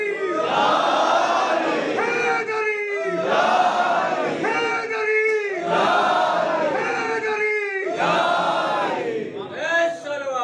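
A large crowd at an Ayyam-e-Fatimiya religious gathering chants the slogan Naara-e-Haidari in unison, loud roaring calls repeating in four strong rhythmic waves with a fifth beginning.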